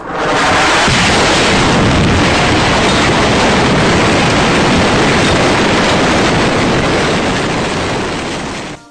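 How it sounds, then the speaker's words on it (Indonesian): A one-ton TNT bomb goes off as a massive, loud, dense roar. It begins with a short burst and holds as a heavy rumble for nearly nine seconds before trailing off. "Bom TNT 1 ton."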